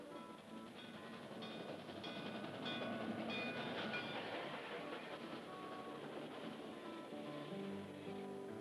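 The Chessie Steam Special, a steam-hauled excursion train, rolls along the rails with a continuous rumbling, clattering roar that holds steady throughout, while faint tonal sounds drift over it.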